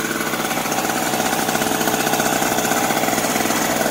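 Harbor Freight Tailgator two-stroke portable generator running, a loud, close, buzzy engine drone with a rapid steady pulsing rhythm throughout and no talking.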